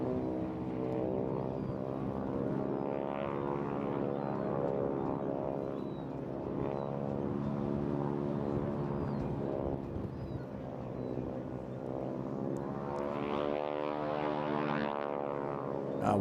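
A propeller aircraft with a 1930s-designed radial-style engine rasps steadily as it flies past at a seaside airshow, a loud, harmonic drone that swells and fades over about sixteen seconds with no talking.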